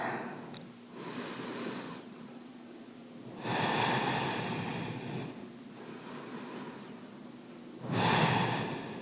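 Slow, deep breaths during a held floor yoga pose, each long airy inhale or exhale rising for a second or two, with quieter pauses in between, close and alone without speech.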